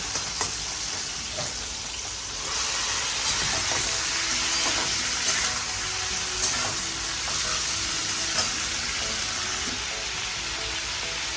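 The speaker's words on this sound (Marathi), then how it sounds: "टोमॅटो आपले चांगले शिजले, आता आपण याच्यामध्ये धुतलेली वालपापडी टाकूया।" Washed vaal papdi beans hit a pan of cooked-down tomatoes and sizzle steadily and loudly up close, with occasional stirring scrapes and no talking.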